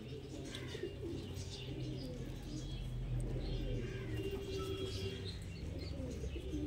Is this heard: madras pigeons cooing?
yes